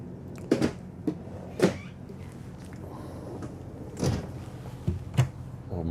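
Several sharp wooden knocks and slides of a silverware drawer in a Tiffin Phaeton 40AH motorhome being opened and pushed shut, with quiet room noise between the bumps.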